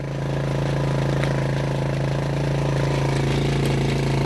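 A generator engine runs steadily beside a camper van on a rainy day, giving a constant low droning hum with a faint mechanical rattle, close and unbroken throughout.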